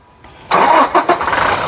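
A 2019 Toyota Innova Crysta 2.4 Z diesel starts in one crank: a short starter whir, then the engine catches loudly and nearby, revs briefly in two pulses and settles into an idle.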